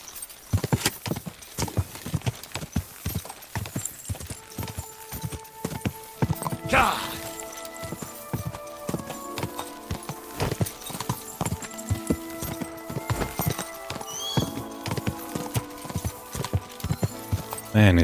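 Horse hooves clip-clopping in the medieval game Kingdom Come Deliverance 2, a steady rhythmic trot of close, crisp hoofbeats running throughout, with brief neighs, ambient tones and someone talking over it.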